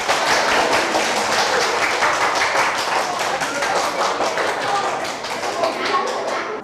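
A classroom full of students claps steadily for several seconds, a dense patter of applause that fades slightly toward the end.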